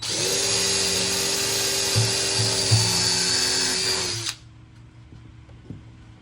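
Power drill with fresh bits driving screws into wood while building a bench and shelf unit, a loud steady whine for about four seconds that abruptly cuts off, leaving quiet shuffling and a few light knocks.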